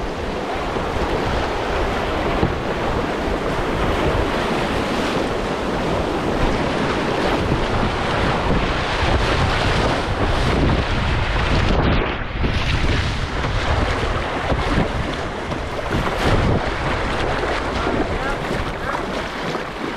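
A canoe runs whitewater rapids on the Missinaibi River, with a loud, continuous roar of rushing water and splashing close by, and gusty wind buffeting the microphone throughout.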